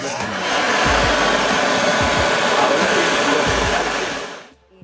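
An electric motor drives a forced-aeration blower for compost piles, a loud, steady rushing whir close by that holds evenly for several seconds before cutting off abruptly at the end.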